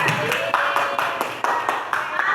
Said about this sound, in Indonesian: Tepuk tangan untuk Edza.